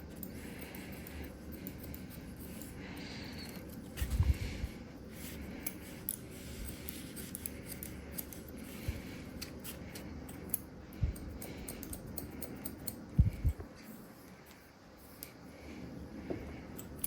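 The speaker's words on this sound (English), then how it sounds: "we want to get rid of these bits just by point cutting them in." Scissors point-cutting hair during a 70s-style haircut, a steady train of soft snipping and crisp clicks close up with a few sharper cuts, heard alone without talk.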